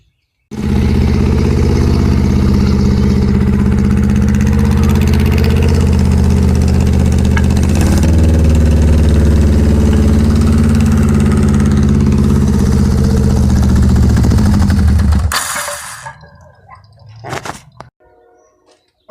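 A 1982 Yamaha 550 motorcycle engine idles loud and close with a steady, even rumble for about fifteen seconds, then cuts off abruptly, leaving faint scattered noises.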